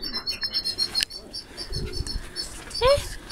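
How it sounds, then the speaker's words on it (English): Canaries singing at Beamish: light chirps and one bright rising trill near the end, mixed under nearby voices and background bustle. "I'm just looking at all the canary birds. And they're singing pretty little songs,"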